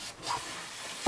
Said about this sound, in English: So this just gets all the dust off.